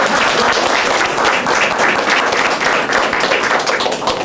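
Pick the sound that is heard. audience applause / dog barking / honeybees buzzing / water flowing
audience applause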